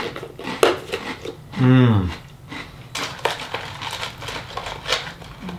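Spoon scooping Reese's Puffs cereal with milk from a bowl: a few light clinks and a wet crunch, with a brief murmur and some talk nearby.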